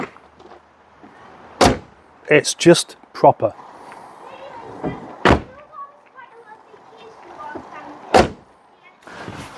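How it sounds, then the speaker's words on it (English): Several solid Rover 75 car door thuds, a few close together, with a person speaking briefly between them in a quiet setting. "I would own a 75 or a ZT just for the door shut sound"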